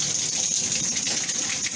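Water runs steadily from a newly installed shower nozzle in a basement bathroom, a constant hissing spray with no breaks, close and moderately loud.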